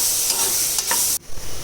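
Tomatoes sautéing with onions in a hot pan make a loud, close, dense sizzle that cuts off abruptly for an instant before resuming, with faint stirring taps and no speech.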